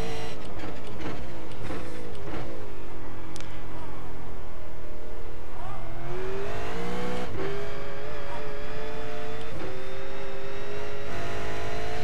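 An iRacing V8 Supercar engine lapping Sebring, with loud, continuous harmonic engine drone that rises and falls as the car revs up and shifts through gears, alone without talk.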